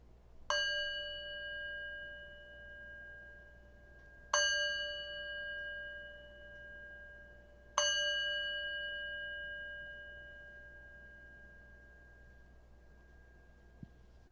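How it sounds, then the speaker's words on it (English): A meditation bell is struck three times at steady intervals, each clear metallic ring sustaining and slowly fading into quiet. "as we end this meditation with a bell, I invite you to just pause"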